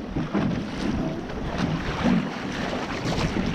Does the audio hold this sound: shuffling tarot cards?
no